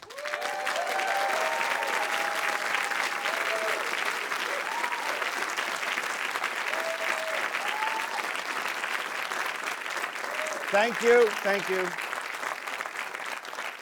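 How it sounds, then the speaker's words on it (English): Sustained audience applause and cheering at a live talk show at Apple Park in Cupertino, steady and full for about thirteen seconds, with a voice speaking briefly near the end. "Can't waste time on applause."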